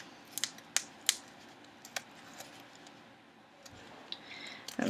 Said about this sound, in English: I'm just going to cut it in the middle